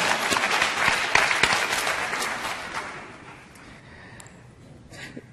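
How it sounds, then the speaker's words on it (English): An audience claps at a public health event, a moderately loud burst of crowd applause that thins and tapers into a quieter room tail. "We can clap for that."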